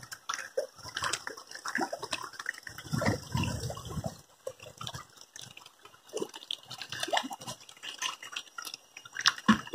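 Water splashes and sloshes continuously as fish are lifted out of a raised super-intensive fish-farming tank, with a steady watery churn throughout and short bursts of louder splashing.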